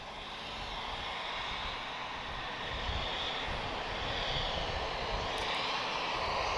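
A TAP Airbus A319-112 departing Lisbon Airport for Porto gives a broad, continuous jet roar that builds slightly and stays steady at moderate distance, with no speech.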